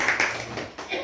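A few scattered hand claps ring out at a film-shoot gathering, short, sharp and fairly close, sounding beneath and between people talking.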